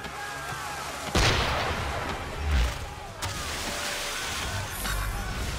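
Cannon fire from a ship in Assassin's Creed III, two or three loud booming blasts with rumbling decay against a noisy sea-battle background.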